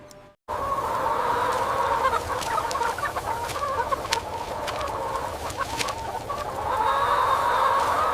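Thousands of chickens cluck and chatter continuously on a poultry farm, with scattered sharper calls over a steady flock murmur.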